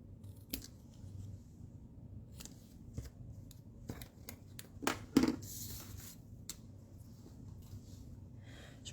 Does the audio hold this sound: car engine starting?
no